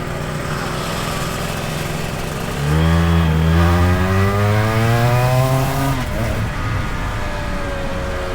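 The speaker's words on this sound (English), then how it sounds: "The main difference with the exhausts is it's revving past 12 now and pulling nice" A Yamaha TZ250 two-stroke racing motorcycle at the Pembrey track sits at a buzzy idle, then revs up sharply with its pitch climbing and holding high before dropping back to idle, loud and close.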